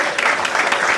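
An audience at a book launch claps loudly and steadily, a dense burst of applause filling the room for a brief moment.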